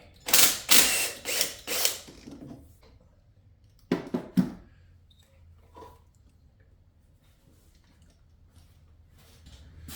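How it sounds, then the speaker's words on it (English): A hand ratchet loosens the coil pack bolts on a C5 Corvette LS6 engine, clicking in quick bursts for about two seconds, then again briefly, followed by faint workshop handling noises. "We can go in and pull all the bolts for the coil pack."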